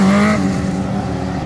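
Engine of a Honda Fan motorcycle fitted with a Hornet engine, held high and loud and close during a wheelie, a sustained rough roar with a brief higher rev at the start, no talk.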